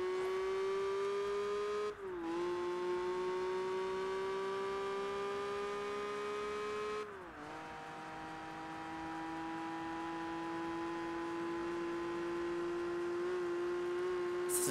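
A race car in the video game Project Gotham Racing 3 speeds down a straightaway on a New York bridge, its engine holding a steady high whine, with two brief dips as gears shift, then climbing again.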